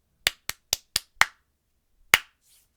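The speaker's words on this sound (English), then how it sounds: "you simply clap" Bare hands clap a simple rhythm: four evenly spaced sharp claps, a fifth, then a pause and one more single clap, close and dry with no talking.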